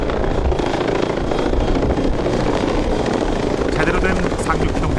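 A military transport helicopter flies close by with a continuous loud rotor chop and engine roar that stays even and steady throughout.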